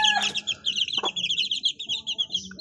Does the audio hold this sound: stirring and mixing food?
no